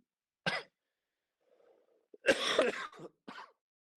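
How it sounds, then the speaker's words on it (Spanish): A short cough burst, a faint pause, then a longer harsh coughing fit with a couple of trailing coughs, close and fairly loud. "al hablar mucho se seca la garganta y empieza el ataque de tos"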